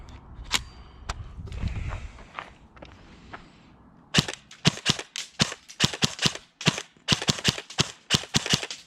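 An airsoft gun fires BBs in a quick series of sharp, close cracks, spaced irregularly with brief gaps, after some softer handling noises at the start.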